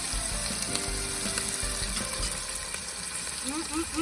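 Steady crackling sizzle of onion and garlic frying in a pan outdoors, with brief tonal clinks and faint background sounds near the end.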